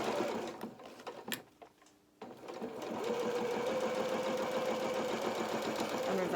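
A sewing machine stitches down the side seam of a small anorak, starting with a few hesitant stitches and a brief pause, then settling into a steady, continuous mechanical whir that runs close and loud.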